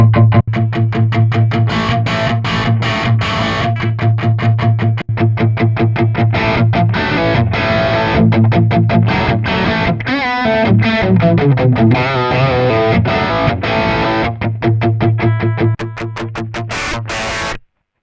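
Distorted electric guitar plays chugging riffs and chords through an AMT Pangaea CP-100 speaker cabinet simulator, loud and close, with brief pauses and a sustained chord at the end.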